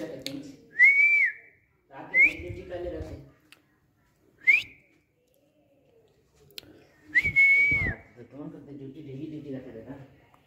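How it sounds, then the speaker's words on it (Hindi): A man whistles several short, sharp rising calls outdoors on a street to summon a stray street dog, and he talks between the whistles. "पहले तो सीटी मार के देखते हैं।"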